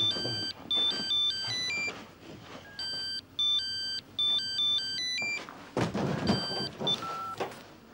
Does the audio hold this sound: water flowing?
no